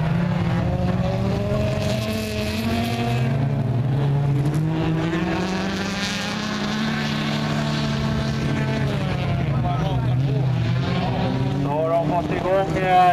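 Rallycross race cars, including a Volkswagen Golf, roar and whine with shifting pitch as they accelerate past, while a commentator talks in Swedish over the loud motor noise.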